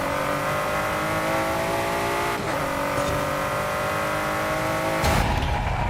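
Car on drag radials accelerating hard, a loud sustained engine roar with rising tone that holds steady, then a shift change near the end, heard from inside with no talking.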